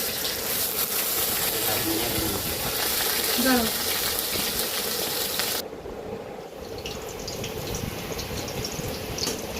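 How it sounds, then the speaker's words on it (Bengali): Hilsa fish sizzling as they are slid one by one into hot oil, a steady loud crackling hiss that drops and changes partway through, then keeps frying. "তেল ভালোভাবে গরম হয়ে গেলে এখানে এক এক করে মাছগুলোকে ছেড়ে দেওয়া হবে"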